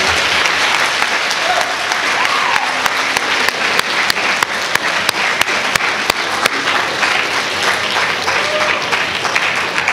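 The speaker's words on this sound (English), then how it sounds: "Let's give another round of applause." An audience at St. Malachy's Wellness Fair 2016 applauds after a keynote address by Dr. Mitch Abrams, a loud, dense round of clapping with a few sharper individual claps standing out, continuing steadily throughout.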